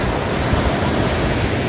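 Arabian Sea waves wash onto a sandy beach at Devbagh, where a river meets the sea, a loud continuous surf roar with wind buffeting the microphone.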